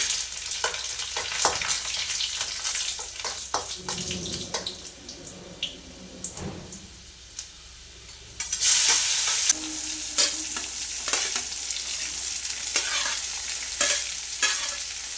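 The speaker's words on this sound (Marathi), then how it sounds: "मोहरी छान तळतळली की लगेच जिरं टाकते लसूण" Mustard seeds, cumin and garlic crackle and sizzle in hot oil in a pan, with scattered popping and stirring at first, then a louder surge of steady sizzling near the end, with no talk.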